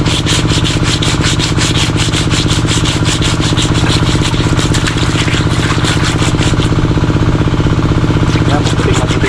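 Fish are scraped hard and fast to clean them and remove the fishy smell, a dense rapid rasping that runs loud and continuous under a steady motorized hum, with no pauses.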